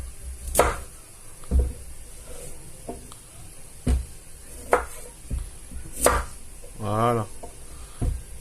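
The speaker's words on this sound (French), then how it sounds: "Et après, on va les couper grossièrement." A knife roughly chopping firm sweet potatoes on a board, in sharp separate knocks spaced about a second apart, close and clear, with a brief voice sound partway through.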